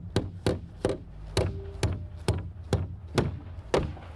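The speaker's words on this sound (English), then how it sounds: "we're going to be nailing into the center hole in line with our roof stud" Hammer driving a nail into a roof stud, about ten sharp, evenly spaced wooden knocks in a steady rhythm, close and clear with no talk.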